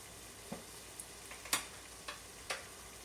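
Masala paste for fried fish cooks gently over a very low flame, a soft, quiet sizzle broken by several sharp taps and scrapes of a spoon as it is stirred.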